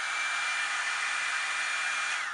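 Revlon One Step hair dryer running on its low setting, a steady loud airy whoosh with a faint whining tone, held close and continuous throughout without any voices.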